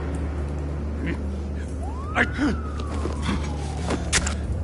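A police car siren sweeps up and down in the Batman: Realm of Shadows video game, a single wailing tone over a steady low hum and game ambience, moderately loud with brief thumps.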